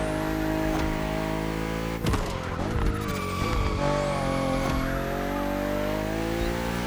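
BMW M2 and M4 cars accelerate in The Crew Motorfest racing game, engines revving up through the gears with whining pitch sweeps and gear shifts, loud and close with brief tire noise midway.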